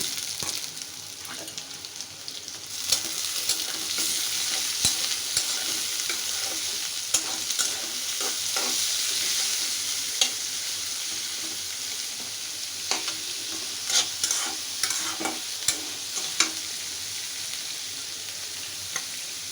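Chopped garlic and onion frying in hot oil for a dried fish (shutki) dish, a steady loud sizzle with repeated scraping stirs and clinks of a spoon against the pan, no voices.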